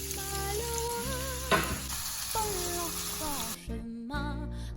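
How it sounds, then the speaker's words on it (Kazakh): Chopped onion and garlic fry in olive oil with a steady sizzle, partly masked by music playing over it. "оларды оливковый маслода жұмсарғанша қуырып аламыз"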